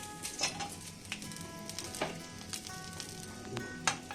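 Vegetables for sukto go into hot oil tempered with fenugreek, giving a quiet, steady sizzle with a few sharper crackles and the light scrape of stirring, with no talk.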